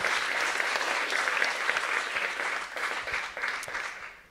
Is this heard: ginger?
no